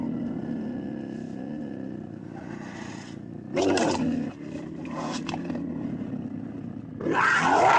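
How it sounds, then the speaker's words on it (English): A puma growling, a continuous low rough rumble that swells into louder snarling bursts a few times, close and alone. "puma"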